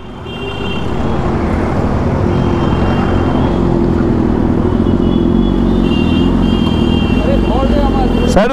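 A motorcycle engine is throttled up into a loud, sustained roar that holds steady, with people talking over it.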